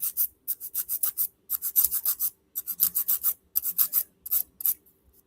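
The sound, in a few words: nail file filing acrylic nail sidewalls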